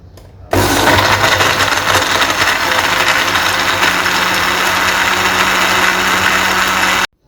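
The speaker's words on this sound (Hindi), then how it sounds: "तो अभी मैंने सोचा थोड़ी आपको ग्राइंडर की आवाज़ भी सुनाई जाए कि कितनी तेज़ आती है।" A kitchen mixer grinder blends a mango banana milkshake, starting abruptly and running as a loud, steady, close motor whir for about six seconds before cutting off sharply.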